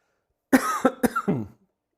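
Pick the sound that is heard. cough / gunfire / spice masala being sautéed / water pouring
cough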